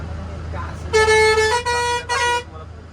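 A bus horn sounds on the road during a bus trip toward Prayagraj: three loud, bright honks, the first longest and the last shortest, separated by brief gaps, with faint voices and cabin noise before them.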